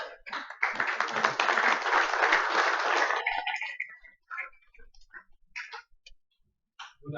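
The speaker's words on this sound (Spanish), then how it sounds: "Recibamos un aplauso a Luis." A burst of audience applause at a lecture rises quickly and holds for about three seconds, then trails off into scattered individual claps and quiet.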